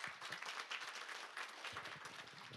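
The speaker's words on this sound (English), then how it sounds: "let's give her a round of applause" Audience applause for a forum participant at a finance roundtable session, a steady dense clapping from a crowd that holds for the whole stretch without fading.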